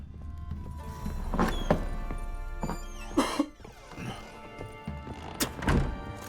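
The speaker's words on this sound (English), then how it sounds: "If you hear me cough, that's just realism." A man coughs several times close to the microphone, sharp harsh bursts with throat clearing between them, over the quiet background sound of a Witcher 3 game.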